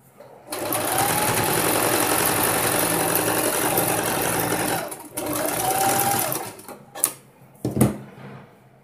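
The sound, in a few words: sewing machine stitching a blouse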